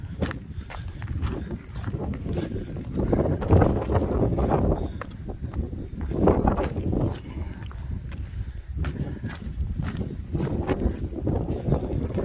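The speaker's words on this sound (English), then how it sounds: "I mean, it's windy" Steady wind buffets the microphone in low rumbling gusts on a mountaintop along the Appalachian Trail, with faint footsteps crunching underneath; no talking.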